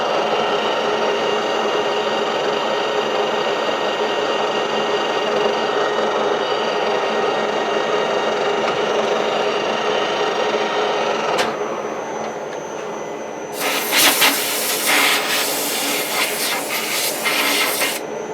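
A lathe cuts a 20 TPI internal left-handed thread with a threading tool in a lock washer for grinding hubs, a steady close metallic hiss and whir that shifts and ends in brighter scraping bursts.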